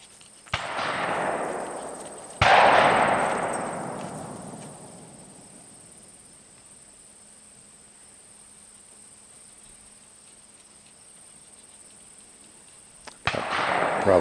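Gunshots from an AR rifle ring out in the Allegheny National Forest: two sharp cracks with long echoing decays early on, a quiet stretch, then another shot near the end, loud and carrying through the woods.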